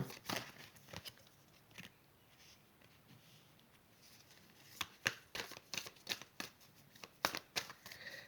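Tarot-style cards being handled and laid out on a table, soft scattered shuffles, slides and flicks, quiet and close with irregular taps clustering toward the end.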